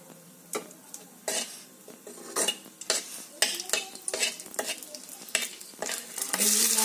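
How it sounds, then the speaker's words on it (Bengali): Dried red chillies go into a hot pan with oil and are stirred, bringing bursts of sizzling frying and repeated scrapes and clinks of a metal spatula against the pan, loud and close. "দিয়ে দিচ্ছি শুকনো লঙ্কা"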